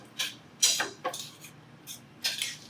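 Pasta and prawns get tossed in a pan, several distinct clanks and scrapes of food and metal coming in uneven bursts with quiet gaps between.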